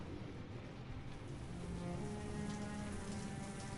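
Heavy rain pours steadily during a storm, a dense, constant wash of drops hitting surfaces with no break or change in strength.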